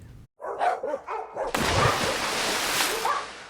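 A few short dog barks ring out close at the start, then a sudden loud whooshing burst swells and fills the rest.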